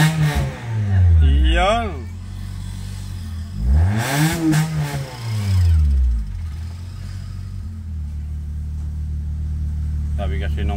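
A Honda Dimension car engine with an unstable, misfiring idle is revved several times nearby, rising and falling in repeated swells before settling into a steady running drone, with brief talk over it.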